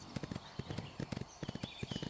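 Hooves clip-clop steadily on a horse in a video game, a quick run of close, rhythmic hoofbeats with faint background ambience.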